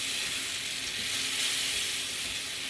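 Coconut cream bubbles and sizzles in a hot pan while being stirred, a dense, steady close hiss with no distinct clanks.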